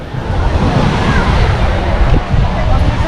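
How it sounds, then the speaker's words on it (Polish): Surf breaking on a crowded Adriatic beach in Croatia, a steady loud wash of waves and wind filling the whole stretch, with faint voices underneath. "Właśnie doszliśmy do plaży."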